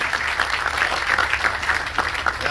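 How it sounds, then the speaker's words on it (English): Steady applause from an audience at the Propelify innovation conference in New Jersey, dense and sustained, filling the room at even volume throughout. "Huge round of applause for Dave Meltzer for being here"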